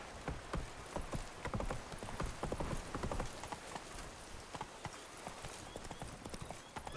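Roach, the horse in The Witcher 3, gallops in a fast, steady drum of hoofbeats with faint creaks of tack, fairly quiet and continuous throughout.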